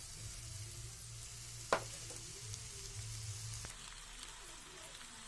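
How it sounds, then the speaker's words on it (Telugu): Pasta tipped into a hot pan gives a soft, steady sizzle, with one brief clatter early on and a low hum of cooking underneath. "ఇప్పుడు ఈ పాస్తా ఇందులో వేసుకుంటానండి"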